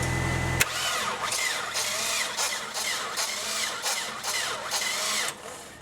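A Nissan 240SX drift car's engine cranks steadily with a rhythmic starter churn for several seconds without catching, loud and close, then the cranking stops. No voices.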